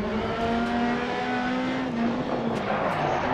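A rally car slides under hard e-brake in the Dirt Rally video game, its steady engine drone holding loud and close with a faint tire scrub running underneath.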